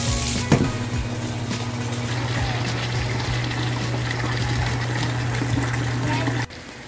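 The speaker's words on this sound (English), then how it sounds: "headed inside to add some water in our bathtub" Water runs into a bathtub inside a yurt home on a farm, a steady loud gush with a low pump-like hum underneath that cuts off abruptly near the end.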